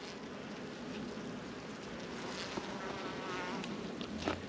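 Honey bees swarm a hive's quilt box and candy board in midwinter, making a steady, dense, even buzz that stays fairly close with no pauses and no talk.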